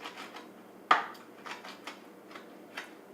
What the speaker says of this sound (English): So you're going to chop up the sun-dried tomatoes,